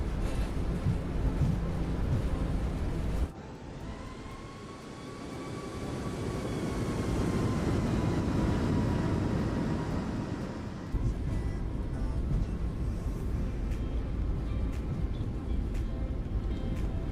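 Boeing 737 MAX reverse thrust on landing in a flight simulator: a sudden cut in the noise, then a broad roar that builds and stays loud for several seconds before easing back to a steady rumble.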